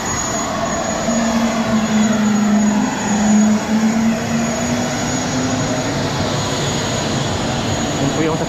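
A small airplane's engine drones steadily at an airport during boarding, a loud continuous hum with a rising tonal whine. Background noise surrounds it and there are faint voices.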